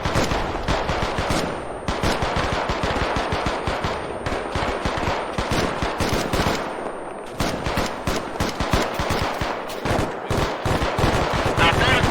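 Sustained rapid gunfire in the video game Arma 3, bursts of rifle and machine-gun shots crackling almost continuously with brief gaps, loud and close.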